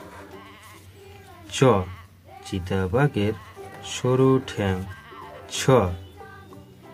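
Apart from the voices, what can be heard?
goat kid bleating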